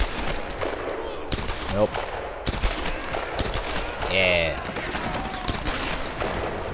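Gunfire bursts in the Tomb Raider video game, several sharp shots and short volleys scattered across the clip amid game sounds, with a brief spoken word from a player.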